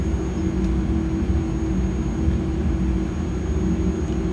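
iniBuilds A300 jet engines spooling at takeoff thrust in a flight sim, a loud, steady, low roaring rumble with a thin high whine, continuous and unbroken with no talk.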